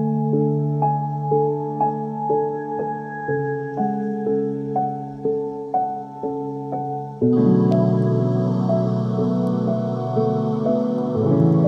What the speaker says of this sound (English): so you can hear the piano sounds like this.